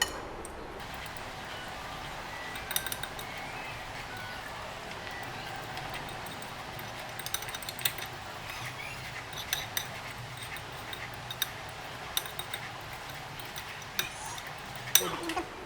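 Masala for white mutton karahi being stirred together in a bowl, giving soft scraping and light clinks of a spoon against the dish, with sharper taps scattered throughout over a steady low kitchen background.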